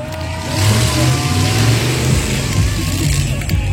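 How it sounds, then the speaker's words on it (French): A loud big-block race car engine revs and rumbles up close, rising and settling in deep throaty pulses, with a crowd's voices faintly underneath. "On fait monter ce moteur en température."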